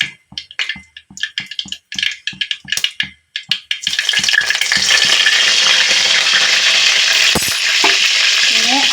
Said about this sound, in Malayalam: ഒരു അര ടീസ്പൂൺ കടുകിട്ടൊന്ന് പൊട്ടിക്കാം കടുക് പൊട്ടി വരുന്നുണ്ട് ഇനി നമുക്ക് കറിവേപ്പില ഇട്ട് കൊടുക്കാം